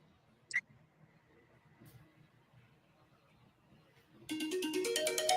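A quiet room with a faint click, then an electronic phone ring starts abruptly and continues loudly to the end.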